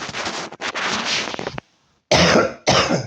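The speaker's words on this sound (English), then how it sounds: "I'm still coughing like this" A person coughs in a series of loud, harsh bursts close to the microphone, a rough run of coughs, a short silence, then two more forceful coughs.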